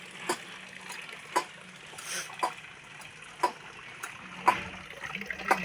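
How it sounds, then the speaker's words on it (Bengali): Water gushes from a hand pump while fish are washed beneath it, the flow surging in regular pulses about once a second with each stroke of the handle and splashing steadily in between. "এই দেখো আমার মা এখানে মাছগুলো ধুয়ে নিচ্ছে, আর আমার বোন কল চেপে দিচ্ছে"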